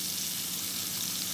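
Finely chopped white onion fries in melted butter with a soft, continuous close-up sizzle and no other sounds.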